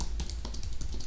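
Fingers type quickly on a computer keyboard, a dense run of close key clicks over a steady low hum.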